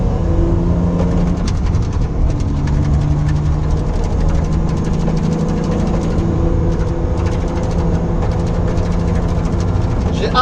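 A BMW E30 cruising on the highway in fifth gear at about 90 km/h and 3000 to 4000 rpm, its engine giving a steady, loud low drone with road noise that holds constant throughout.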